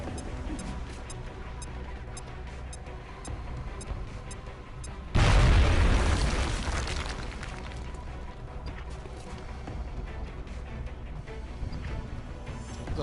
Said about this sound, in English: I'm tossing this grenade.